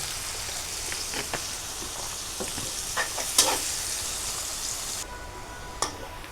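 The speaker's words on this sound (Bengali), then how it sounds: "দেখেন পেঁয়াজগুলো আমি এভাবে দিলাম ভেজে" Onions fry in hot oil while a spoon scrapes and stirs the pan, a steady close crackling sizzle broken by scattered clinks and scrapes, with no one talking.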